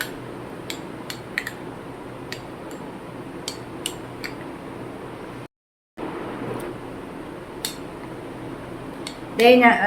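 A spoon stirs a curd and gram flour face pack in a bowl, giving scattered light metallic clinks and scrapes over a steady room hiss, with a brief dropout partway through and a louder rustle at the end.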